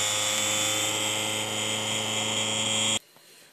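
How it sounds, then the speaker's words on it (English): A homemade reed switch motor spinning at 12 volts gives a steady, loud high-pitched whine with a buzzing hum, running constantly for about three seconds before cutting off abruptly into quiet. "My reed switch motor."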